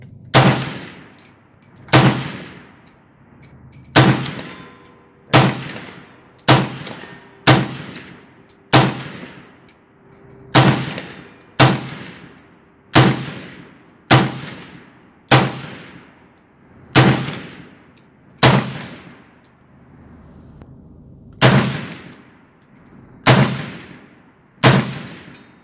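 Steady series of single AK-47 rifle shots, about seventeen sharp reports spaced roughly a second or two apart, each followed by a ringing outdoor decay, with no talk over them.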